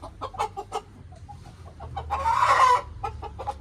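Hens and a rooster clucking in a village yard, with a run of short clucks early on and a louder, drawn-out rooster call building near the end, fairly close and without speech.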